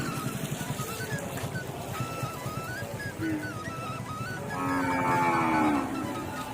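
Murrah buffalo calves moo at a busy Andhra cattle market, with several low calls through the first half and a louder, drawn-out moo near the end over steady crowd and market noise.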